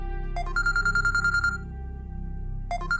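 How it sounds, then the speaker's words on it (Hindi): An electronic phone ringtone chirps in a quick repeating burst of beeping tones, pauses, then starts again, fairly close and clear. "किसका फोन है?"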